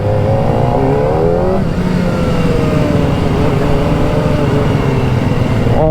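A 2024 Kawasaki Ninja ZX-4R inline-four sport bike engine revs loud and close, climbing in pitch, easing off and building again in a steady high whine.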